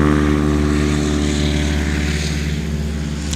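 A de Havilland Beaver propeller airplane passes low on a go-around during a Swamp STOL event, its loud radial engine and propeller drone steady and close, beginning to fade toward the end.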